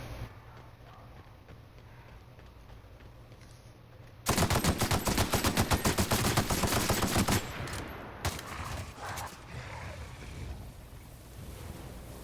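Rapid automatic gunfire from The Outer Worlds video game breaks out loud for about three seconds after a quiet ambient stretch, then gives way to scattered lighter game noises.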